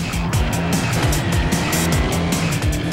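A restored Ford Mustang race car in the racing video game GRID roars loudly at close range, its engine revving up and down in quick repeated surges with gear shifts, and a faint tire squeal runs under it.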